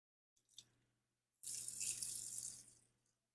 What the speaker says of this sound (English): It's gonna fill up first with the water.